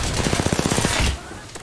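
A quick burst of rapid automatic gunfire in the shooter game Apex Legends, about a dozen evenly spaced close, loud shots over roughly one second before it cuts off.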